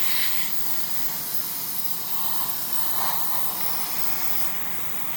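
An airbrush sprays blue paint onto a Deep Space Nine Runabout scale model, giving a steady close hiss of air that holds even throughout with no talking.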